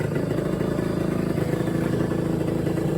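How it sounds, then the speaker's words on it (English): A Yamaha RX50 motorcycle engine idles steadily nearby, a low rhythmic chugging burble that stays even throughout with no revving. "You can hear she's just kind of purring away there."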